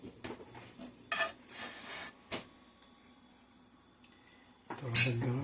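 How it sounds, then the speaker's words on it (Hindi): A knife cuts through an omelette and cheese sandwich on a hard surface, making a few scattered scrapes and taps with a louder clatter near the end. "अब हम इसको स्लाइस में काट लेंगे।"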